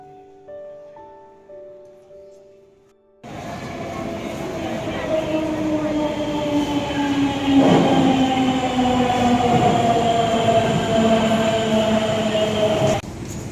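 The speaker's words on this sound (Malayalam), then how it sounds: "ഹസ്രത്ത് നിസാമുദ്ദീനിൽ നിന്നും ന്യൂഡൽഹിയിലേക്കുള്ള യാത്ര മെട്രോയിൽ ആരംഭിച്ചു" A Delhi Metro underground train runs between Hazrat Nizamuddin and New Delhi. A deep rumble surges in and holds loud and steady with whining motor tones and rattling, after a few seconds of quieter voiced sound.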